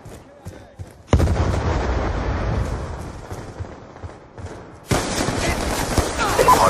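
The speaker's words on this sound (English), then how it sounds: "Friendly Hellstorm missile inbound" Hellstorm missile strikes in Black Ops 2 multiplayer on the Yemen map: two heavy waves of explosions and crackling fire, one early and one later, each rumbling loud and close with a brief lull between.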